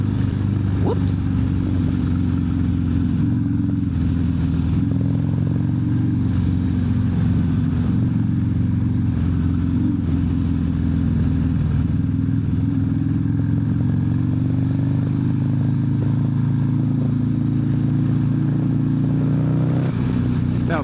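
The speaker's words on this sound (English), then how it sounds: "So much freaking traffic." Steady engine rumble and road roar from a turbocharged Harley-Davidson CVO motorcycle riding through heavy Los Angeles freeway traffic, with passing vehicles droning close by throughout.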